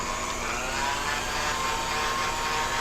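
A stand mixer with its paddle whirs steadily through lemon cupcake batter, a continuous close motor drone with no talk over it.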